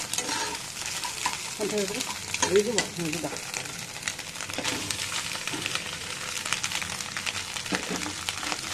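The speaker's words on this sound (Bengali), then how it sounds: "এবার ওর মধ্যে ওই চাউমিনটা দিয়ে দেবো" Chowmein noodles being tossed into a pan with scrambled egg for egg chowmein, a steady loud sizzle under continuous stirring and scraping, with a few clinks of the utensil near the start.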